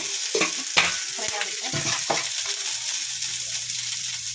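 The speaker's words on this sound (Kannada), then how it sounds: "ಈರುಳ್ಳಿ ಬೆಳ್ಳುಳ್ಳಿ ಇದಕ್ಕೆ ಒಂಚೂರು ಎಣ್ಣೆ ಹಾಕ್ಕೊಂಡು ಇದು ಮಾಡ್ಕೋಬೇಕು" Onion and garlic frying in a little oil for a snake gourd gojju, a loud continuous sizzle broken by several sharp scrapes and knocks of a spatula stirring in the pan.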